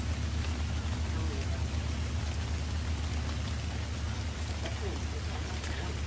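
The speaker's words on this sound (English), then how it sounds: "I hate the rain." Steady rain pours down in the survival video game ARK, a continuous hiss of falling drops with a low rumbling undertone, fairly even in level throughout.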